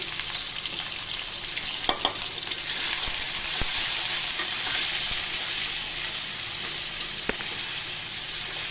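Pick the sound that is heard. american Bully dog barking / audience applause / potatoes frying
potatoes frying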